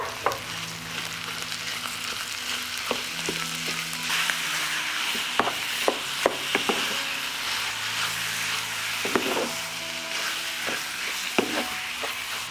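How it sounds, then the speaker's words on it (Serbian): A kilogram of minced meat frying in a pan with onion, a loud continuous sizzle broken by repeated scraping clicks of stirring, close and with no talk. "dodat ću kilogram mlevenog mesa i njega ću propržiti"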